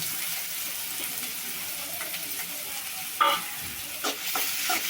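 Two cut onions sautéing in hot oil in a pan for egg pepper rice, a soft steady sizzle close by with a few louder stirring scrapes near the end, no talking.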